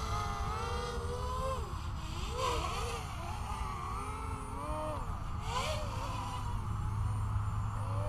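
Quadcopter drone motors whining through night flying and cross-axis flips, pitch rising and falling in sweeping waves as the throttle is cut and brought back on, a steady buzzing drone throughout.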